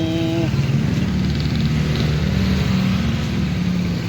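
A loud motorcycle with a modified muffler in Barangay Sapang Biabas, Mabalacat, its engine droning steadily close by with rough exhaust tones and slight revving throughout.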